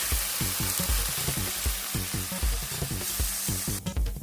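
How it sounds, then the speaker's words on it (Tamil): Ground onion and coconut paste sizzling loudly in a hot pan for okra curry, steady frying hiss with rhythmic stirring scrapes throughout and no voices. "அரைச்சி வச்ச வெங்காயத்தையும் தேங்காயையும் இதில் ஊற்றிக்கலாம்."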